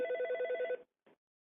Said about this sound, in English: I'm sorry. Let me get this phone call.